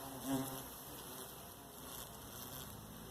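A hornet hunting bees gives a faint, steady insect buzz with a brief louder pass near the start, heard outdoors alone.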